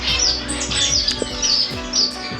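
Red-headed finches in an indoor bird room call in quick, high chirps that repeat every half second or so, each one clear and close, over a faint steady room hum.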